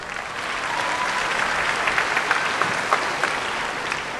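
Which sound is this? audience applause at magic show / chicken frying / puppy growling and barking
audience applause at magic show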